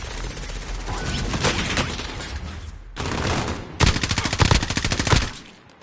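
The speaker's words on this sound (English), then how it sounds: "Shots pinned me." Gunfire crackles in the Warzone game, a sustained burst of shots followed after a short pause by rapid, loud automatic fire, close and dense with no talk.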